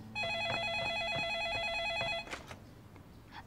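A telephone rings indoors with a bright, warbling electronic trill that repeats in quick pulses for about two seconds, then stops. Faint room noise follows.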